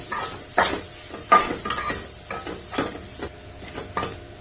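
A spoon stirring potato filling for masala dosa in a pan, with a series of distinct scraping clinks against the metal over a soft background sizzle.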